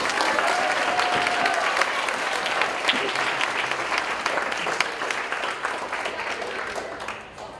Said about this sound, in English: we will give them a round of applause